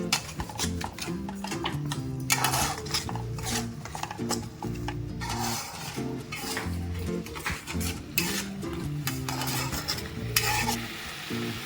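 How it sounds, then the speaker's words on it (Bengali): Sweet star fruit chutney is stirred in a pan with a spoon scraping and clinking rhythmically over a bubbling sizzle, fairly loud and close, with no one talking. "ভালো করে মিক্সড করে নিচ্ছি"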